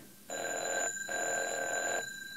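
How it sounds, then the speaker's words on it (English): A telephone bell rings in two bursts, the first under a second long and the second longer, each a loud, bright trilling tone with a short gap between them. "Evans, did that phone ring?"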